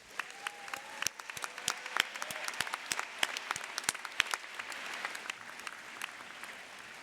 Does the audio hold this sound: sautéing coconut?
no